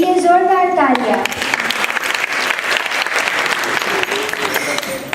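An audience at a stage variety show breaks into loud, dense applause right after a spoken line, the clapping filling the hall steadily for several seconds.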